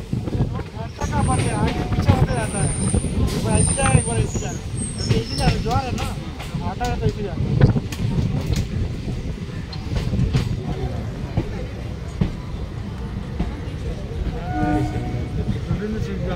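A local train runs on rails through Kolkata's suburban line, a continuous loud rumble and clatter with metallic squeals, and people talk throughout over the noise.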